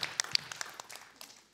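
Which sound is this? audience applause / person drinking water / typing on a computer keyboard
audience applause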